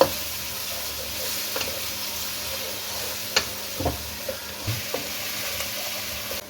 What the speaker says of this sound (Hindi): अब प्याज को इसमें हल्का सा ही फ्राई करें।